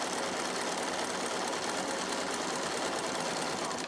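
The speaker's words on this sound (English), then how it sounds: "We're checking on my zigzag stitch." A sewing machine runs a zigzag stitch, a fast, continuous mechanical whir with fine rapid ticking, moderately quiet and steady throughout, with no voices.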